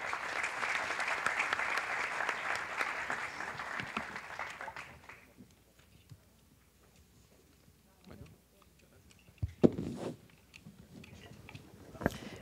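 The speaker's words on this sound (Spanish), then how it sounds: "Les pido un aplauso para nuestros panelistas." Audience applause for panelists at a Colombian energy-sector panel, loud and sustained for about five seconds, then fading out into near quiet broken by a few scattered thumps, clicks and faint room noises.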